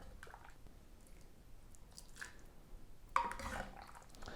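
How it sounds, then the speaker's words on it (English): Carrot tahini soup ladled into a measuring jug: mostly near-silence, then a brief soft wet splash with faint drips and squelches toward the end. "I'm going to ladle a good amount of this soup into the measuring jug."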